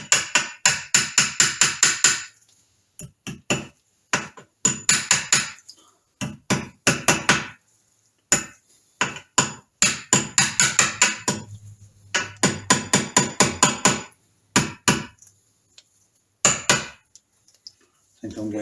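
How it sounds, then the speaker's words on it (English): A small hammer taps a Woodruff key into the shaft of a Triumph Trident T150V engine, sharp metallic strikes landing in rapid bursts and then single taps, separated by pauses. "Get a little hammer."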